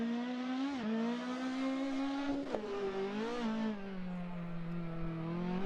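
A Fiat 131 Abarth rally car in Richard Burns Rally, its engine note rising and falling through gear changes and revs, with a brief tire squeal midway, loud and steady throughout.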